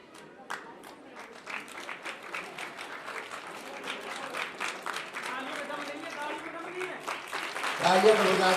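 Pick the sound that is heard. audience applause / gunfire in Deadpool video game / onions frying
audience applause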